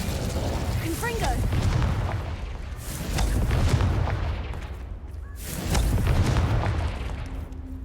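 Confringo fire spell exploding in Hogwarts Legacy, a loud, heavy booming blast that swells and rolls on, repeated in a few broad surges, with game effects layered over a constant rumble.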